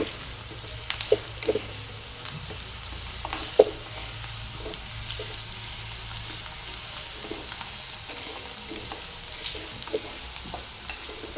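Chopped onion and two finely cut green chillies fry in a pan for paneer bhurji, giving a continuous soft sizzle with occasional spatula clicks and stirring knocks, close and moderate in level, no voices.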